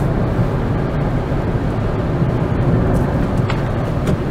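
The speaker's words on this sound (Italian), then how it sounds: "Poi motore bicilindrico, comunque è leggermente più rumoroso rispetto ai classici" A two-cylinder methane-powered Fiat Panda engine runs with a steady, loud low rumble and constant drone, no speech over it.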